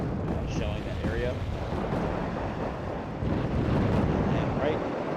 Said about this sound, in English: I'm just shelling that area.